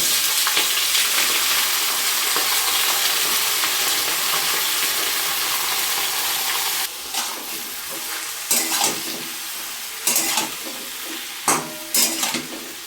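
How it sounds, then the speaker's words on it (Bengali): Green chilies and spinach fry in hot oil with a loud, steady sizzle and spitting for several seconds, then the sizzle softens and is broken by intermittent stirring scrapes in the pan. "কাঁচা লঙ্কাটা ফটফট করছে, দূরে থাকতে হবে এখন।"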